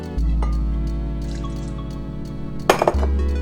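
Soy sauce poured into a measuring cup in a home kitchen, a steady close trickle and drip of liquid with a brief louder splash near the end.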